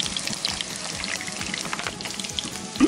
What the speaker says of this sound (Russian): Сейчас обжарю с двух сторон, а потом немножко потомлю под крышечкой.